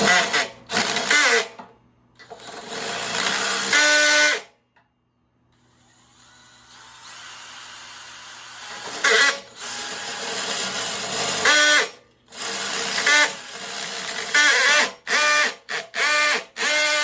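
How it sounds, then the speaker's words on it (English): A power drill drilling through metal on a Trail Master MB200II, with loud, close bursts of high-pitched grinding and whirring, broken by brief pauses and stop-start stutters. "I think the drill's not set on the right tension or whatever."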